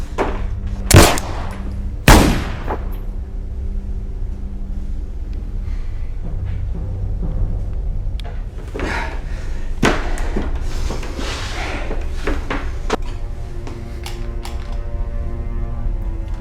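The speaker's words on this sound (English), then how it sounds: "You're out of shots, Sam." Two sharp gunshots from a film scene in quick succession, followed by a stretch of mechanical clicks and metallic ratcheting like an empty gun being dry-fired, over a steady low background.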